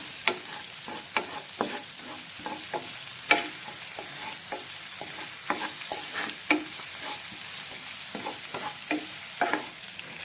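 Sliced onion rings stir-fried in a pan, a steady sizzle broken by regular scraping clicks of a spatula stirring, close up with no talking.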